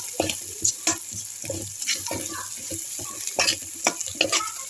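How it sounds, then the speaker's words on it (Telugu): Onions frying in a pan sizzle steadily while a utensil scrapes and stirs them in quick, irregular strokes close by. "ఆనియన్స్ బాగా ఫ్రై అవనివ్వాలి."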